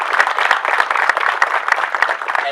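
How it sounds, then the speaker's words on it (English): An audience gives Samantha a round of applause after a poem recital, a steady, even patter of many hands clapping close by, with no talk over it. "Let's give her another round of applause."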